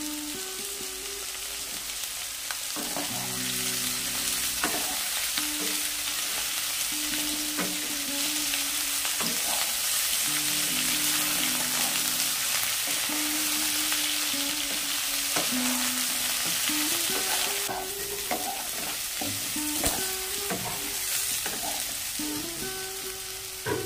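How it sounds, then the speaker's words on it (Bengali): Mixed vegetables and cut eggplant fry in a pan, a steady close sizzle broken by repeated scraping stirs throughout, no speech. "সবজিগুলো 2 মিনিট মতো ভেজে নিয়েছি। এখন দিয়ে দেব কেটে রাখা বেগুনগুলো।"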